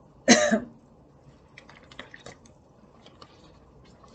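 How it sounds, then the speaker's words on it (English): A single short slurping sip of water, close and fairly loud, followed by faint soft mouth and swallowing sounds in a quiet room. "I'm going to take a sip of water."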